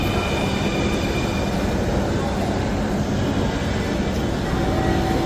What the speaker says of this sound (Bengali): ইতিমধ্যে আমাদের ট্রেনটি প্ল্যাটফর্মে চলে আসছে